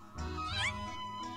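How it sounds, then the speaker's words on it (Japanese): A cartoon cat character gives a single rising meow in the mobile game Hoshi no Shima no Nyanko. The call is short and clear over soft background game music. "今してたのはラスカルの声です"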